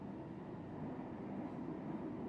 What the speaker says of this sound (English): As the train approaches Bastille